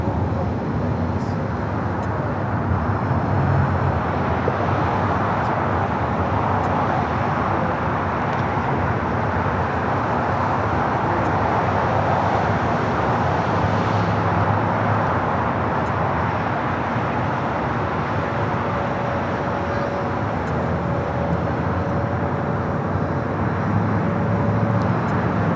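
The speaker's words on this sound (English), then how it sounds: "Korean Air Flight 18 taking off to Seoul on the A380." A Korean Air Airbus A380 on its takeoff roll from LAX toward Seoul: a steady, broad jet roar that holds at constant loudness throughout, with no speech.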